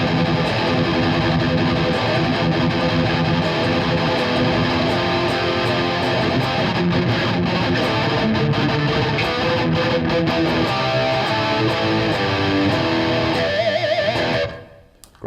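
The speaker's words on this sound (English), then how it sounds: "let's push that gain boost all the way up." An electric guitar through a Randall Thrasher amp head with its gain boost maxed roars with thick, oversaturated distortion, a long continuous riff with palm-muted stabs and bends, loud and alone until it cuts off at the end.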